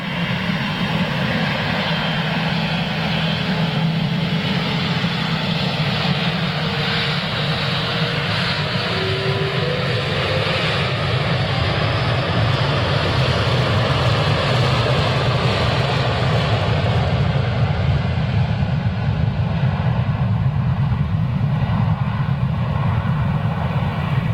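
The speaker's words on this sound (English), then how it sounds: "Did those engines kick in? Such a short spool." An airplane takes off at Manchester Airport, its engines spooling up into a loud, steady roar that holds for the whole stretch, close by and with no voices over it.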